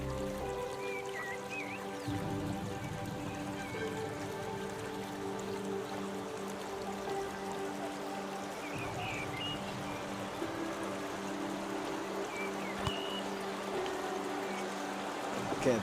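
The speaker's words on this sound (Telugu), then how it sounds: "ఈ వాటర్ సౌండ్ వినబడుతుంది." Water in the Franklin River valley near Queenstown, Australia, flows in a continuous, even rush with soft trickles, heard close and steady throughout.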